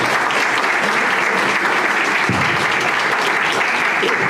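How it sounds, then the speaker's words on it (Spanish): Loud, sustained applause from a church congregation for a priest, a dense and even roar of many clapping hands that continues throughout without a break. "un aplauso fuerte para el padre"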